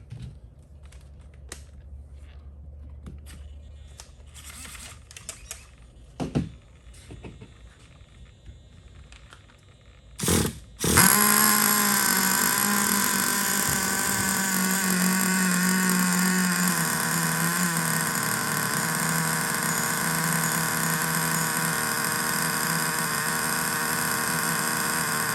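A Freevo Revo engine, stone cold at 77 degrees, sputters through a couple of attempts after some handling clicks, then catches and settles into a loud, steady, buzzing idle that runs continuously.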